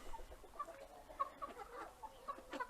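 Silver Wyandotte chickens cluck softly in short, scattered calls, several birds close by but quiet, with faint rustling between the clucks.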